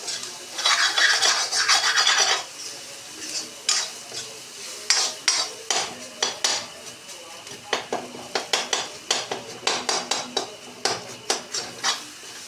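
A metal ladle stirring and chopping besan bhurji in a kadai: a burst of continuous scraping, then a steady run of quick clinks and scrapes against the pan over a faint sizzle.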